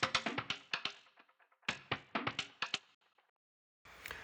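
Unprocessed tribal toms, dry struck drum hits in quick rhythmic bursts, two phrases of rapid beats separated by short pauses, close and alone with no other sound.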